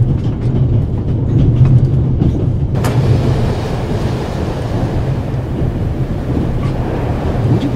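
Steady low rumble of a train riding along a railway in The Raven, a rolling, continuous rattle with a brief higher clatter partway through, no talk.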